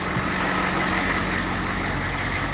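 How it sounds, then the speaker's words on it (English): A truck engine idles loudly at close range near a gravel building site, a steady low rumbling drone that holds constant throughout, with no voices. "Get past this truck. I know it's a little bit loud."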